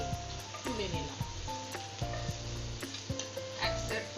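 Sweet potato pithe frying in hot oil, a continuous soft sizzle under a bright tonal hum, with light clinks as the cakes are turned over.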